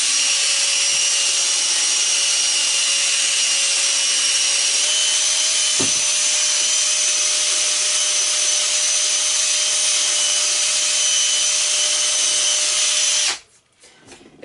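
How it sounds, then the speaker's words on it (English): A power drill with an attachment works rust off an old axe head, a loud continuous high whine with a steady scraping grind that holds for about thirteen seconds before cutting off abruptly, close up with no speech. "it's not just run this drill across there one time and all the rust is going to fall off"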